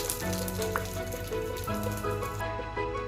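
Curry leaves sizzle in hot oil with mustard seeds for a Kerala sadya-style pineapple pachadi, a steady close frying hiss with faint crackles and no talking.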